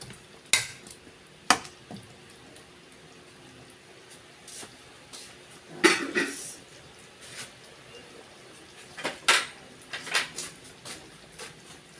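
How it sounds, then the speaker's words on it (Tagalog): Vegetables tipped into a pot of simmering chicken caldereta, giving a few sharp clinks and clatters against the pot with soft stirring scrapes and a faint sizzle, close and without talk. "Ilagay ko na rin po yung gulay."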